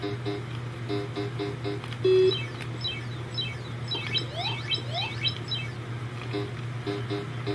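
Bleepy Pac-Man tones from an Atari 2600: repeated short beeps and rising chirpy sweeps over a steady low hum, with no talking.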